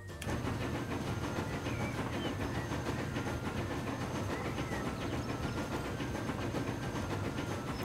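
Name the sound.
train ride in Transport Fever video game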